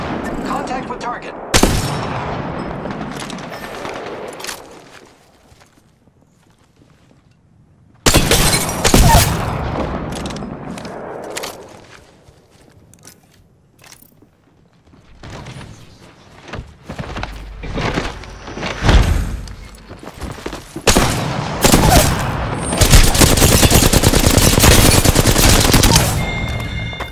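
Bursts of automatic gunfire in the Apex Legends video game, loud and close, arriving in heavy volleys separated by quieter gaps, with occasional in-game voice lines.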